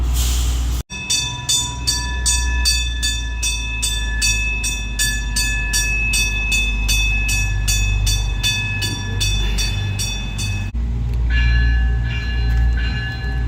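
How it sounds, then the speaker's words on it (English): A Pikes Peak Cog Railway car rolls along the track with a loud, steady low rumble, a ringing bell repeating throughout, and a brief shift in tone near the end. "the older car is going into the barn, and the new car is going further up the track"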